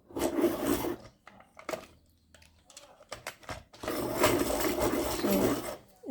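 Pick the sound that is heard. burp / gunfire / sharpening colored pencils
sharpening colored pencils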